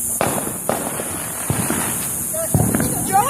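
Fireworks crack and pop in quick irregular bursts outdoors, several sharp bangs over a constant background hiss, with people talking nearby.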